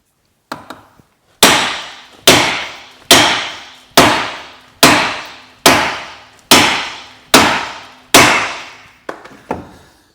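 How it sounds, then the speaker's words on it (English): Heavy metallic hammer blows strike a castle nut on a Vauxhall Meriva drive shaft, about eight loud, evenly spaced hits, each ringing briefly before the next. Lighter taps come at the start and end, and no voice is heard. "You have to line up the castle nut back on the spline so when you hit it, it doesn't cause any damage."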